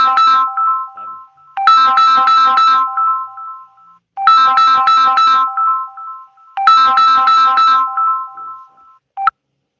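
A phone ringtone plays in three loud bursts of rapid, repeated electronic chirping tones, each lasting about two seconds, with short silent gaps between them and a brief final blip.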